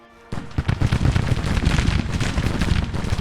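Rapid, continuous booming bursts of artillery fire in the video game Grand Tactician: The Civil War 1861-1865 roll in after a brief quiet start, loud and dense like a heavy barrage.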